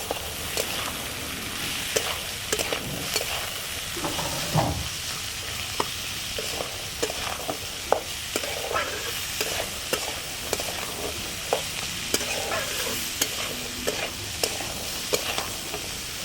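Chickpeas with a little turmeric fry and sizzle steadily in a pan while a spoon stirs and scrapes, giving repeated sharp clicks over the continuous close hiss, with no talking.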